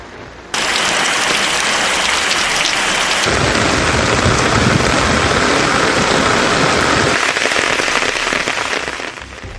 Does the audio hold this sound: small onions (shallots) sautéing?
no